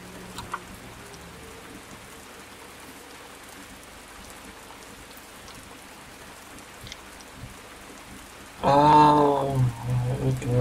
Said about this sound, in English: It's all got a bit dark, it's raining.